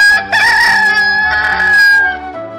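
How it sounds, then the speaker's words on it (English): A loud, close rooster crow, one long drawn-out cock-a-doodle-doo ringing out on its own. "Rooster."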